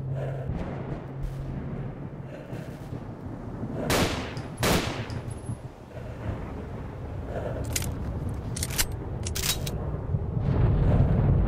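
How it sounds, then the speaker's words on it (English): Gunfire in the S.T.A.L.K.E.R. Misery mod, scattered sharp shots and short bursts over a noisy ambient background, some louder and closer and others more distant. "I hear gunfire."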